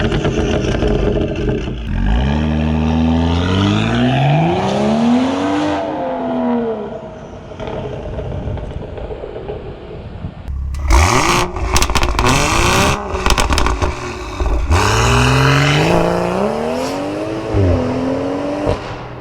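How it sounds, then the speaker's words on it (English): BMW M4 with the S55 engine revs in several loud, close bursts, each rising sharply in pitch and falling away, with short gaps of lower engine sound between them and no talking. "I know a lot of people just hate the sound of this engine"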